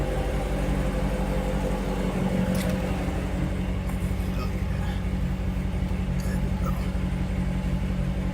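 A car's exhaust rumbles steadily with a deep, loud, continuous drone close by outdoors in Charlotte, North Carolina, with a few faint clicks over it.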